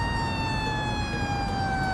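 A video-game ambulance siren wails continuously in a driving game, a steady, loud, sustained tone with a low rumble of road noise beneath and no talk.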